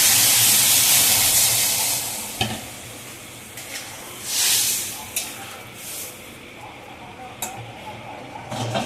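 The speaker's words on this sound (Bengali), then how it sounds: "এবার আমি জল ঢেলে দিচ্ছি" Water hits a hot pan of shrimp curry with gati kachu and banana, giving a loud initial hiss and sizzle that settles into softer bubbling and stirring, with a speaking voice over it.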